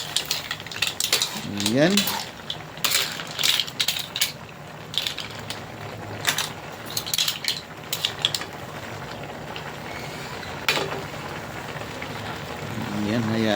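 Mussels and squash cooking in a pot are stirred, with irregular metallic clinks, scrapes and rattles of a utensil against the pot over a low simmer, and a voice speaks briefly.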